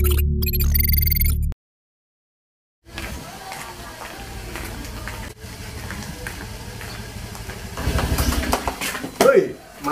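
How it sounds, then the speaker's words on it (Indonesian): Motorcycle engine idling as it warms up in the morning, a steady low rumble from a poorly maintained bike overdue for an oil change, running under people talking near it. "Mana pagi-pagi tuh manasin motor?"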